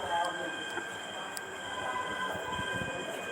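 A train at a station platform on the Firozpur line in Punjab, with steady rolling rumble and faint wheel noise, continuous and moderately close.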